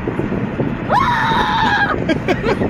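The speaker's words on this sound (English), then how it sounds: "that was terrified screaming" A single sustained scream rises and holds for about a second, loud and close over the steady rumble inside a moving car, followed by a few shorter vocal bursts.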